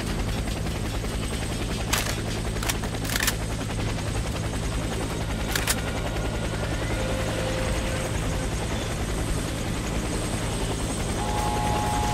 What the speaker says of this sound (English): Helicopter for extraction.